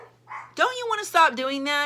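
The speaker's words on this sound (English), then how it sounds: "Sorry if you hear my dogs barking." Pet dogs at home yipping and barking in short, high, strained bursts close by, heard under and between a person talking.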